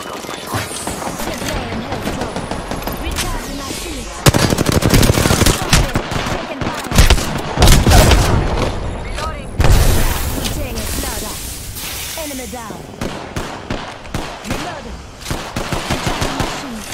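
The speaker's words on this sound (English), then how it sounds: "Listen up, I'm getting shot at." Rapid automatic gunfire and shots in the battle royale game Apex Legends, dense bursts of firing with impacts and louder spikes, continuous and close across the whole span.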